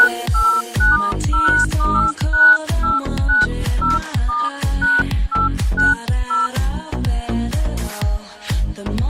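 A Samsung Galaxy S4 incoming-call ringtone rings out as a bright, steady melody of repeated short tonal notes in a quick rhythm, loud and close, with no talking.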